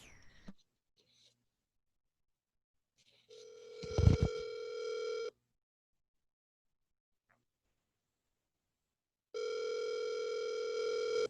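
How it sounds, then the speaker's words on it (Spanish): A WhatsApp call rings out with an electronic ringback tone: one long steady tone, a loud click or knock partway through, several seconds of silence, then the tone sounds again, clear and without speech. "Te voy a llamar por el WhatsApp."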